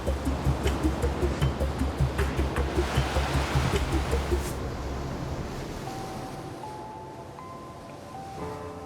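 Ocean surf at Pe'ahi roars in a dense, rhythmic rush with pulsing swells for several seconds, then settles into a lower, steadier wash with a faint tonal whine late on.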